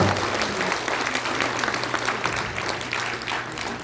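Audience applause at a political party launch ceremony in a hall, sustained dense clapping from a sizable crowd, loud and continuous, with a low hum from the room underneath.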